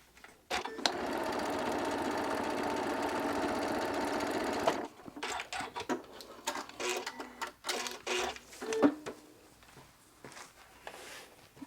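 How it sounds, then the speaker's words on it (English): A sewing machine stitches fabric for a strip-pieced quilt block in one steady, close whirring run of about four seconds, followed by scattered clicks and handling noises. "So we'll just stitch that down and then one side will be done."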